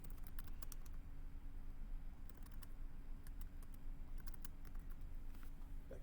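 Steady clicking keystrokes on a computer keyboard, quick irregular bursts of taps close by over a constant low hum, with no voices.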